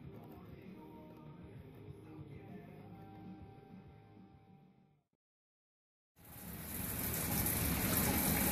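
Water rushes steadily through an underflow setup, washing magnetic brown material along. A constant close gushing hiss fades out, drops to silence, then returns louder and fuller.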